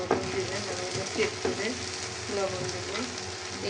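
Ginger and garlic paste frying in oil in a pan while a vegetable bhaji is cooked: a steady, close, crackling sizzle with a few brief stirring scrapes.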